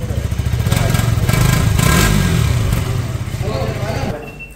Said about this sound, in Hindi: और साउंड देखो भाई बाइक का, साइलेंसर की प्लेसिंग भाई देखो नीचे ही है